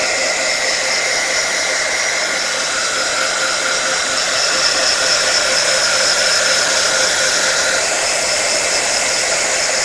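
A heat tool blows steadily and loudly for the whole stretch, drying paint and decoupage craft paste with a constant hissing roar and no talk.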